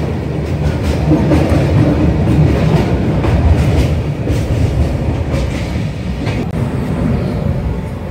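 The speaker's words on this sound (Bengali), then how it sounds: "ট্রেন আমাদের ক্রস করছে চূর্ণী নদীর উপর ব্রিজ" The Sealdah–Jalpaiguri Humsafar Express rumbles loudly across the bridge over the Churni river, a dense continuous roar of wheels and carriages with rhythmic clatter throughout.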